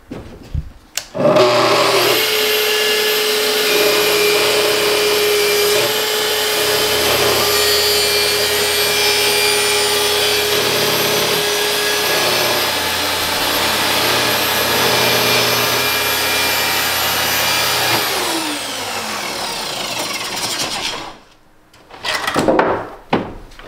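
A power saw whines steadily for about sixteen seconds as it cuts down a wooden boat hull, then winds down and stops, leaving a brief quiet.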